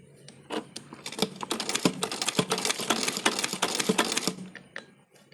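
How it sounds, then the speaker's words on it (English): A sewing machine stitching elastic onto the edge of a top: a fast rattling run of needle strokes lasting about four seconds, with a few separate clicks before and after, close and fairly loud with no talking. "I instead sewed the elastic onto the edge of the top."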